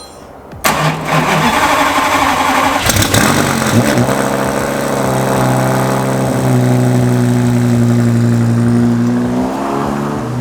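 A converted rear-wheel-drive 2004 Lamborghini Gallardo fires up with a sudden loud roar, blips once, then settles into a heavy, droning idle that stays very loud and close throughout, with no voices.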